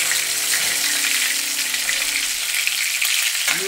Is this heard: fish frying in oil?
yes